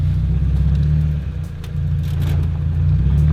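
An Exocet roadster built on an NB Mazda Miata accelerates and revs hard while driven around a field, a loud, close engine drone that dips briefly mid-clip and then climbs again, with no talk.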